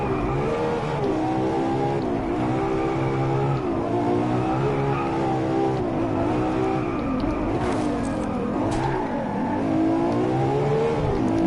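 Race car engines in the Driveclub video game roar continuously while chasing a Koenigsegg on track, with loud, close, rising and falling revs through gear changes and brief tyre noise.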